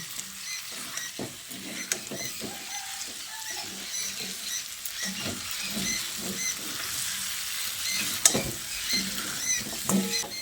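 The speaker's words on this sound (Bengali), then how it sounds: "তারপর চিকেন ও আলুর সঙ্গে দিয়ে আবারও ভালো করে নেড়ে চেড়ে মিশিয়ে নিচ্ছি।" Chicken and potatoes with cumin, coriander and garam masala stirred in a frying pan for a Bengali chicken curry, a steady sizzle under repeated scraping and tapping of the spoon against the pan, close and alone.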